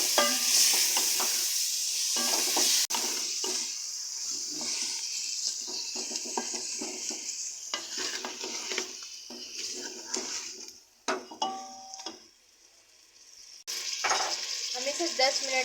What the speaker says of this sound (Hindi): अब हम इसमें कीमा ऐड करेंगे, मिक्स करेंगे इसे भी।